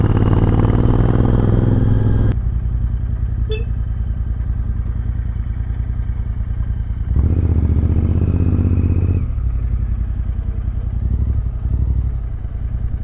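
A 650 Twin motorcycle engine runs loud and close, with a sharp click and a drop in level, then a surge of revving midway before it settles into a steady throbbing idle.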